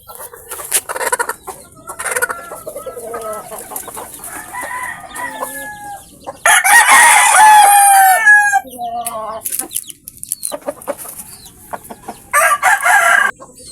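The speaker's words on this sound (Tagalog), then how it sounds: "malalaki na yung ating mga alagang manok" Free-range hens and roosters cluck steadily nearby, and loud rooster crows break in at intervals, the crowing at times overlapping. Quieter chatter and rustling fill the gaps between calls.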